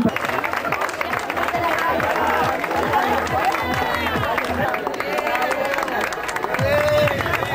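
A crowd applauding steadily, loud dense clapping mixed with voices and some cheering.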